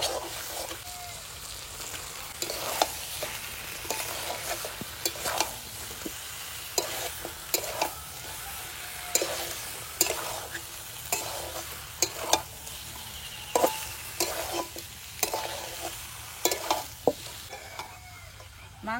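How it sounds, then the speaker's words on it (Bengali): Meat and fried potatoes sauté in a pan during village cooking, with a steady close sizzle broken by repeated scraping strokes of a spoon stirring and turning the pieces. "মাংসতে আলু দেওয়ার পরে 2-3 মিনিট আবার কষিয়ে নিলাম।"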